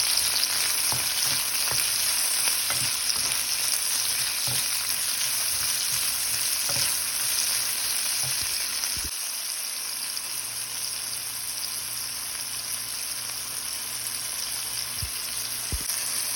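Garlic, ginger and chili fry in a pan with a loud, dense, continuous hiss and crackle close up, a few soft stirring knocks scattered through, and the sizzle steady throughout.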